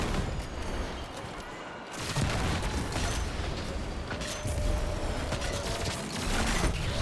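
An explosion in the video game Destiny 2 booms through a dense roar of game effects and mechanical rumble, with loud bursts swelling again after a brief lull.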